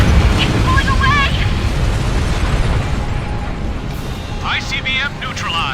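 A deep, sustained rumbling blast of an ICBM exploding in the air combat game Ace Combat Infinity rolls on loudly, with the roar of jet engines and short radio voices mixed in.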